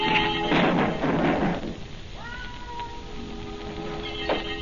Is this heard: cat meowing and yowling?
yes